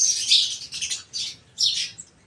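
Sparrows chirping close by in short, bright bursts of tweets, several quick calls separated by brief pauses, clear and alone without talk.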